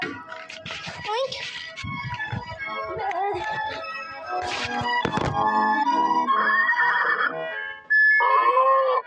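A voice imitates a horse's whinny within a lively children's song, with singing and other animal-call imitations around it.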